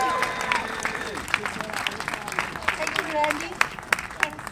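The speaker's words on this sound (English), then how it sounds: "give her a big round of applause" Crowd applauding at a New York rally for Assange, scattered claps and cheers rising and falling, with someone briefly speaking over the clapping.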